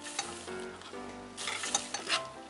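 Sugar and honey stirred in a small saucepan over a low flame for chak-chak, a close, quiet sizzle with a few quick scraping strokes of the spoon.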